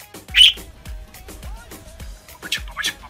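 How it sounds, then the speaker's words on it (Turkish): A budgerigar gives sharp squawks and chirps, a couple of bright bursts near the start and end, close and fairly loud against a quiet background. "Babacık babacık diye muhabbet kuşu sosyal medyada tıklama rekorları kırdı"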